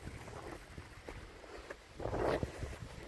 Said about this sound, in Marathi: इथून पाणी येत आहे